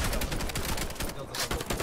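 Rapid gunfire in the shooter game Warface, dense overlapping bursts of shots that keep up loud and continuous throughout.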